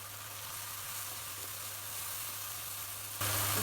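Onion and crushed garlic fry in hot oil for a fish curry, giving a steady close sizzle that swells louder and brighter for the final moments, with no talking.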